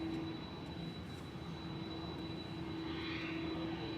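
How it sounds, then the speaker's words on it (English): Emirates Airbus A380 on short final approach to runway 23R at Manchester Airport, a steady broad engine roar holding at even loudness for the whole stretch with a faint tonal hum, no voices. "On short final, for runway 23 right, is EK17 from Dubai, A6 EED, A380."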